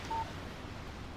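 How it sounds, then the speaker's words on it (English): A phone text message alert in the video game Alan Wake gives one short, clear electronic beep at the start, followed by faint background ambience. "Text message from Barry."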